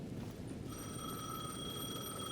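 A payphone rings in Alan Wake 2, its steady electronic trill starting shortly in and holding continuously at a faint level over a low background hiss, with no speech.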